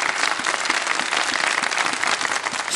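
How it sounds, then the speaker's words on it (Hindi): Studio audience on a kids segment of a television show bursts into continuous applause, a dense, lively patter of many hands clapping close by, steady throughout with no speech over it. "तालियां बजा दें भाई"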